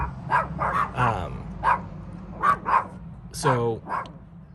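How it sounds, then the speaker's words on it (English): Several dogs bark in short, repeated bursts, fairly close, with a whimpering yip among them and some talking mixed in. "you can hear neighbor's doggy and my doggies now."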